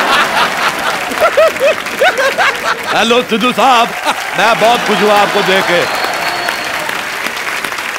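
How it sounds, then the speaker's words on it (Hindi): A studio audience at a comedy talk show claps in a dense, sustained burst with some chuckling, while someone speaks warmly over it in Hindi. "प्लीज आप लोग तालियां बजा के इनका हौसला बढ़ाइए"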